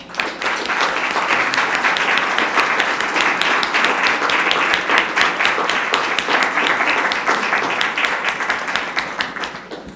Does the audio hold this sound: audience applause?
yes